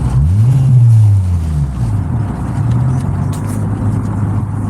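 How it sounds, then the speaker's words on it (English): A GSR car engine with a tuning problem revs up in one rising and falling sweep, then settles to a steady low idle, loud and close with no talk. "Rev it."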